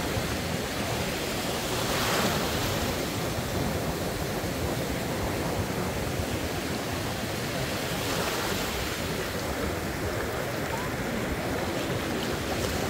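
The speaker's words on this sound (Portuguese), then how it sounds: "o barulho do mar, né? O som do mar, que é muito relaxante." Sea waves breaking on the shore at Recife, a steady broadband rush of surf with surges swelling around two and eight seconds, mixed with wind noise across the microphone.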